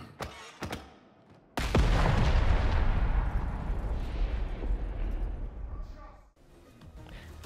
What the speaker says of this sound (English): And the last option he gets is just a normal grenade.